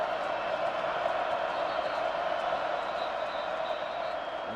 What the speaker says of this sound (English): Crowd's up.